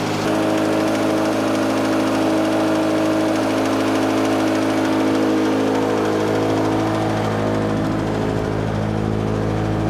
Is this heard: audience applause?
no